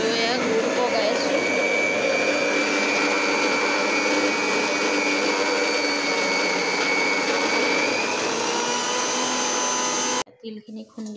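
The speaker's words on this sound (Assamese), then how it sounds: "তিলখিনি খুন্দি আছো" A kitchen mixer grinder grinds roasted sesame seeds in a loud, steady, high-pitched whir that runs for about ten seconds and then cuts off abruptly, leaving faint background sounds.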